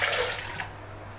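Juice is poured from a cup into a bowl for mango cake batter, giving a brief, close, continuous watery splash and trickle.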